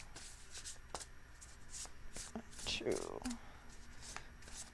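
A brief riffle of tarot cards being shuffled, a couple of quick shuffles under a soft voice counting aloud.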